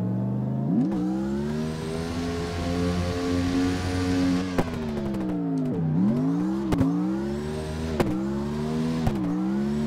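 A large truck engine in a Hakone Nagao touge drifting video game revs hard and steadily, its pitch climbing and dropping repeatedly through sharp shifts, with no talk over it.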